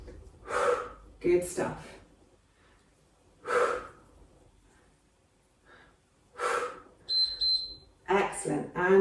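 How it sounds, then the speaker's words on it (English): Several noisy, breathy exhales during a yoga HIIT balance workout, coming in short forceful bursts spaced a few seconds apart, with an instructor speaking briefly between them. "Nice noisy exhales the other way."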